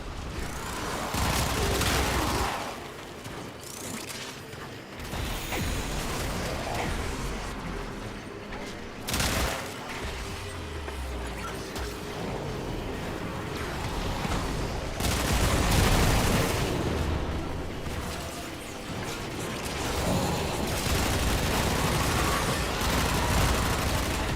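Rapid bursts of automatic gunfire in the Warframe video game, dense and continuous for long stretches with short pauses between volleys, booming impacts mixed in.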